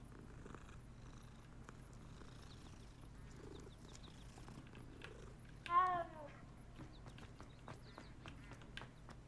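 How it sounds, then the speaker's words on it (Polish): A cat in the Hogwarts Legacy video game purrs softly as it is petted, a faint low rumble under quiet game ambience, with a brief louder chirp-like call midway. "Pogłaskamy kotka."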